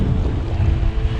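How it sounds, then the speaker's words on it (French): Wind gusts through a stormy drizzle while cycling and buffet the microphone in a constant low, rough rumble, fairly loud and unbroken for a brief moment. "il y a une sorte de crachin qui est dispersé par le vent"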